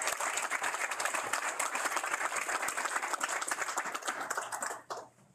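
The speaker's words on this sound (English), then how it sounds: "Let's go ahead and give them a round of applause as well." Applause from guests in a House chamber during a Pride Month proclamation signing, a dense, steady round of many hands clapping that tapers off near the end.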